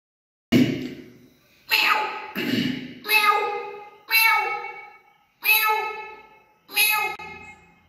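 A voice imitates a cat, giving seven drawn-out meows in a slow, even series with short gaps between them, clear and close with nothing else around.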